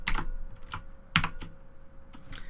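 Computer keyboard typing in short bursts of clicks with pauses between, close and clear, no talk, while a line of VB.Net code is entered.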